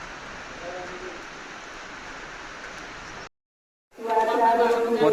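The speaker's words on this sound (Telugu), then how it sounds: "వర్షం అయితే తగ్గడంలా." Heavy rain pours down in a steady, dense hiss on the way to Kedarnath, then cuts out and gives way to louder voices talking.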